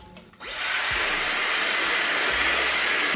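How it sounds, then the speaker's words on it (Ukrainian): Dyson Airwrap styler in hair dryer mode switching on and blowing a loud, steady rush of air that holds to the end, close and alone. "Хоча давайте може, давайте перевіримо фен. Мені дуже цікаво, як воно по потужності."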